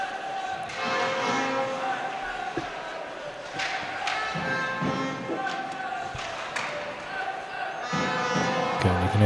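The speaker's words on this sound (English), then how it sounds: "you can hear the crowd picking up, getting behind the boys" An ice hockey arena crowd roars and cheers steadily at a play-off semi-final, swelling in waves, with thuds and clatter and a commentator talking over the noise.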